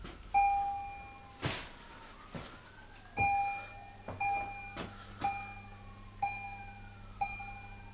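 Stern Galaxy pinball machine powering up its sound system: a series of electronic chime and bell tones with sweeping pitches and sharp clicks, repeating at uneven intervals, fairly faint and with no talking.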